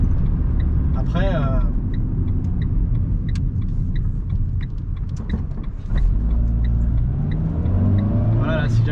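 A 2009 Renault Twingo's 1.2-litre 75 hp engine rumbles and picks up speed, with a person talking over it inside the cabin and a few faint ticking sounds.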